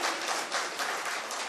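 An audience at a mushaira and kavi sammelan poetry gathering in Tilhar claps steadily, a dense wash of hand claps from a sizeable crowd.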